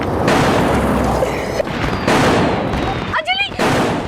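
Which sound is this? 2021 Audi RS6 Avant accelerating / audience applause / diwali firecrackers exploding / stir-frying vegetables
diwali firecrackers exploding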